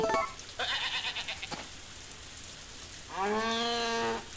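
Cattle in the farming video game Harvest Moon: A Wonderful Life give one drawn-out, fairly loud moo near the end, after a few shorter animal calls earlier amid steady background ambience.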